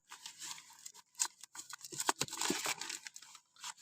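Packing tape tearing and crinkling as a parcel is opened by hand, a run of close, dry ripping and crumpling bursts with brief pauses, no talking.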